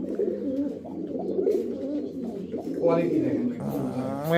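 Rampuri pigeon cooing in a low, throaty burble that runs steadily under people talking nearby at a pigeon market.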